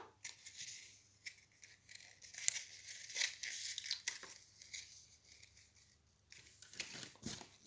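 Faint, close tearing and crinkling of adhesive tape being pulled and ripped in several short bursts, with quiet gaps between.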